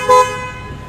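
A single short, loud honk from the horn fitted to a modified Maruti Alto 800, a bright tonal blast that quickly cuts off.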